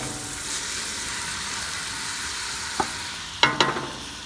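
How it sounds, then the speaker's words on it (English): Celery and onions sauteing in a pot for New England clam chowder, a steady soft sizzle with stirring, then a few sharper clanks of a utensil against the pot near the end, no talking. "I got my celery and onions cooking in there. You want to saute them up nice"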